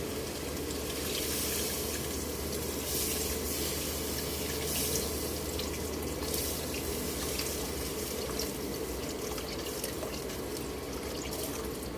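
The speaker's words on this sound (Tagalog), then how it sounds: "Lagyan na natin ng water." A continuous stream of water pours into a cooking pot of sautéed ginger, onion and garlic, a steady splashing rush with faint sizzle that runs unbroken and close for the whole stretch, without talk.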